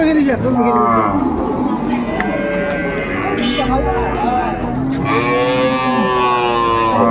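Cattle moo loudly and repeatedly at a cattle market in Dinajpur, long drawn-out lowing calls close by, with crowd chatter and voices mixed underneath throughout.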